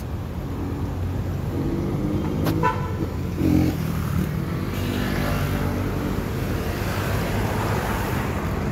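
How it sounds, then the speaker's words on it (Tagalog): Busy holiday road traffic with a continuous engine rumble and passing cars, short car horn toots sounding out partway through, fairly loud and steady. "kaya asahan mo kahit saan ka magpunta, traffic talaga"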